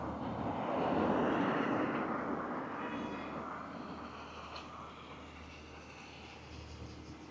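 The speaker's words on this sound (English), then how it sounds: "You can hear the sound of generator" A generator drones on through a residential neighborhood in Abuja's Wuse 2, a steady, fairly distant rumble that swells briefly then settles into a constant low hum, with no talk over it.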